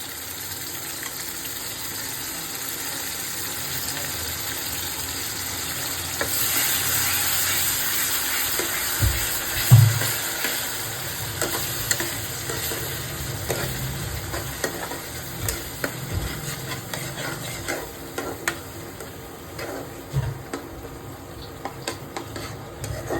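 A paste of garlic, tomato and onion fries in a pan for dal makhani, giving a continuous close sizzle and hiss with occasional scraping stirs and small clatters.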